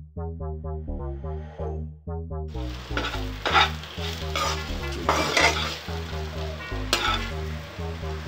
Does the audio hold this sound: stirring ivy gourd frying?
yes